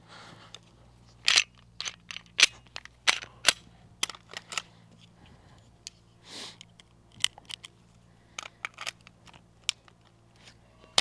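A pistol in a dry-fire immediate-action drill gives a series of sharp, close metallic clicks, taps and slide racks, irregular and crisp, spread over about eleven seconds with brief pauses between handling noises.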